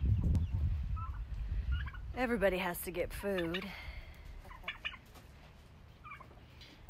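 Turkeys on a farm, kept beside chickens behind a fence, let out two loud, warbling gobbles close by, mixed with other farmyard noise as a person talks before and after.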